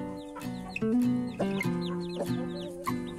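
Chicks with their hen clucking and peeping repeatedly and close by while being fed ground corn and fermented bran, with rapid chirps over a steady background hum.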